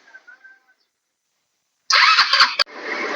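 A Motorstar ER150N motorcycle engine cranks and catches in a sudden loud burst of rough, close revving, cuts out for an instant, then settles into a steady running roar, all after a stretch of near silence.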